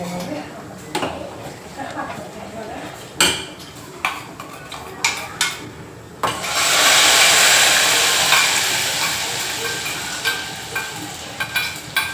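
Food frying in a pan, heard first as a series of clattering stirs and taps of a utensil against the pan, then a loud steady sizzle that swells and fades slowly, with a few knocks near the end.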